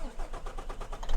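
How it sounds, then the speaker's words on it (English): A truck engine cranks and turns over in the Farming Simulator 25 video game, a rough, pulsing mid-range rumble that swells at the end, with a person talking over it. "start the engine"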